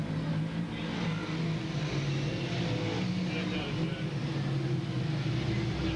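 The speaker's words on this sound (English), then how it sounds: "let's head to Utica Rome Speedway for all the great racing action" Race cars circle the track at Utica-Rome Speedway, a continuous roar of engines at an even, fairly distant level, with an announcer talking over it the whole time.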